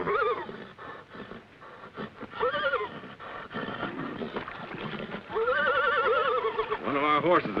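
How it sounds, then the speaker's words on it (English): A horse, a war horse belonging to a Native American warrior, whinnies several times in rising and falling calls, fairly close and loud, over a busy background of other noise. "One of our horses is bogged down."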